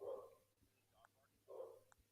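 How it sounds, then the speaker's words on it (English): A dog barks in the background during a live UFC event broadcast, two short bark bursts about a second and a half apart, faint and distant, with people talking quietly. "Do you hear the dog barking?"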